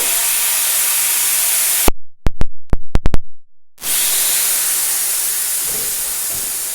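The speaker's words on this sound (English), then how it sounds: "turn on the compressor." A compressor blasts air to seat a tire bead on a modified Harbor Freight manual tire changer: loud steady hiss for about two seconds, then a stretch of sharp clicks and pops, followed by another long loud rush of air.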